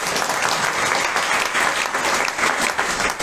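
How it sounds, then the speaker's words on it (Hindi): Steady, loud applause from a gathered audience at a religious discourse in a temple, dense clapping filling the whole stretch without a break. "ताली बजाओ जोर से"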